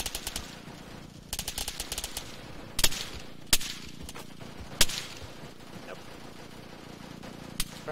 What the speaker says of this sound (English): Starting to hear bullet whiz